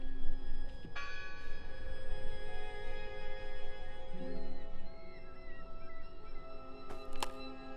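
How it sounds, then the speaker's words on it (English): A bell rings in the dark mystery video game Draugen, a sustained metallic tone that hangs and rings on beneath a steady ambient drone, with a few faint knocks scattered through. "Hello? I heard the bell."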